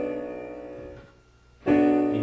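Piano playing a slower passage of a song: sustained chords ring out and fade to near quiet, then a fresh, louder chord strikes near the end.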